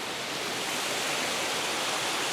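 Tannery Falls in Savoy Mountain State Forest, Massachusetts, rushing as a loud, steady wash of falling water close by, with no break and no voices.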